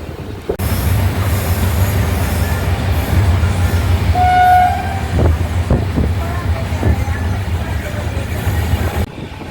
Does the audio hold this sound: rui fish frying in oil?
no